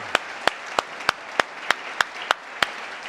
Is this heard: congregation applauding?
yes